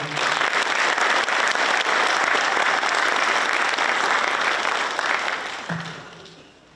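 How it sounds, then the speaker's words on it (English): Veterans Day ceremony crowd giving a sustained round of loud, dense applause that holds steady, then tapers off near the end. "can I just have another round of applause for Father Al, please?"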